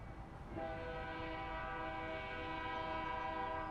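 A train rolls past close by, its horn sounding a long, steady multi-tone blast that begins after a brief moment and holds loud and unbroken to the end.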